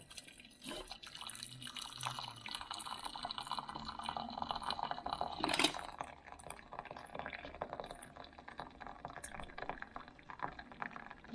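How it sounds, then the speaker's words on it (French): Mussel broth from moules au bleu being poured out in a kitchen, a continuous splashing liquid wash with dripping and a louder surge midway, close and steady without talk. "On verse le bouillon."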